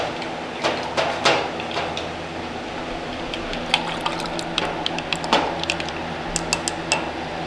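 Powdered rennet is stirred vigorously into water: repeated clinks of a utensil against the container and light sloshing of liquid, close and fairly quiet, with no talk.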